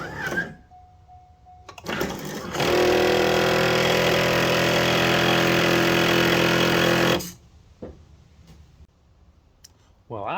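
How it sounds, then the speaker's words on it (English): A C5 Corvette's headlight motor makes a loud, steady whirring grind for about five seconds as the headlight shuts off, with a brief voice before it and clicks and faint noise after. "Does your headlight make this noise when you shut it off?"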